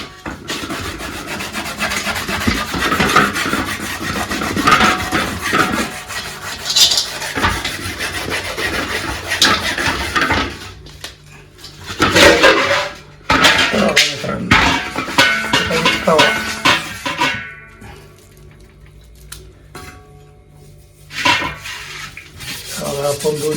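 Iron tawa griddle scrubbed with a secret cleaning ingredient: loud, close rasping strokes in uneven bursts, pausing briefly before resuming.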